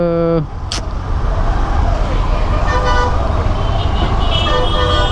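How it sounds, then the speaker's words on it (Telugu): A city road jammed with traffic all the way to Lingampally: a loud short car horn toot opens, then dense engine and road noise continues close by, with distant honks and mixed voices. "ఇది మామూలు ట్రాఫిక్ కాదు, లింగంపల్లి వరకు ఉంది ట్రాఫిక్."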